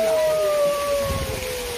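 A person's voice imitates a wolf howl, a long sustained tone that slowly slides downward, heard alone and fairly close.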